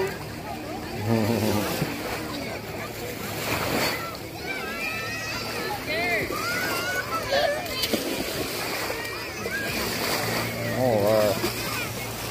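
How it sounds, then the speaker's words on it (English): Ocean waves splash and churn close by in a continuous watery wash, with people talking and calling out over the surf. "Boy, it's waves out here."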